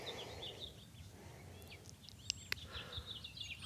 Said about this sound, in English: You may be able to hear the birds.